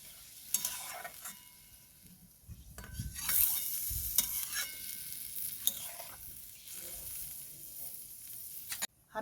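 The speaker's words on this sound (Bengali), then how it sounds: "এভাবে নাড়াচাড়া করে ভালো করে জলের সাথে মিক্স করে নিতে হবে।" A spoon stirring lentils and water in a pot for a rustic spinach dal gives soft, intermittent scraping and swishing strokes with a light sizzle beneath, close but quiet.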